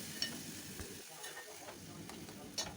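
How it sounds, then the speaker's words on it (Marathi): Tomato puree sautés in hot oil for an aloo matar bhaji, giving a quiet, steady sizzle with faint scraping stirs and soft ticks throughout. "आता या टोमॅटो प्युरीलाही आपल्याला 2 ते 3 मिनिटं तेलावर परतून घ्यायचं आहे."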